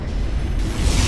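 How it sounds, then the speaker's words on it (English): A particle cannon strike in the Command & Conquer: Generals ShockWave game, heard as a loud, steady roaring rumble of energy and explosion that swells toward the end, with no voices over it. "Particle cannon activated."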